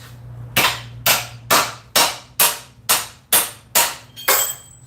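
A hammer drives a pin into a blacksmith's vise in a forge, nine sharp, ringing metal strikes at an even, steady pace, loud and close with no talk.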